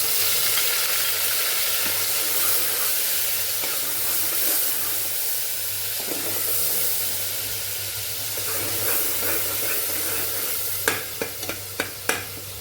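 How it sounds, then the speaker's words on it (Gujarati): Tomatoes and red garlic chutney sauté in oil over low heat, giving a steady hiss and sizzle while a spoon stirs. Several sharp metallic taps against the pan sound near the end. "ધીમા ગેસ ઉપર અને ટમેટા અને લાલ આપણે જે લસણવાળી ચટણી ઉમેરેલી એને સાતળીએ છીએ"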